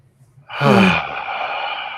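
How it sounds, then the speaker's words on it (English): A single slow, deep breath drawn in and released during a guided relaxation exercise, a soft sigh-like inhale swelling then easing into a long, steady exhale, close and alone with no talk. "take a nice, slow, deep breath"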